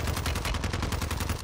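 Rapid automatic gunfire from a first-person shooter video game sounds as a fast, evenly spaced stream of sharp shots, loud and continuous through the moment.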